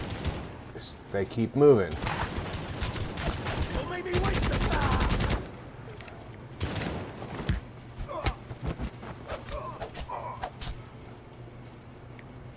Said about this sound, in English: Somebody over there has a machine gun.